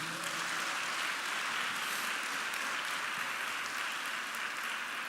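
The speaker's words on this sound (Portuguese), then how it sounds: "vamos aplaudir a baterista" Church congregation applauding a young drummer during a Sunday morning service, a steady, even wash of many hands clapping that holds at a constant level throughout, with no voices over it.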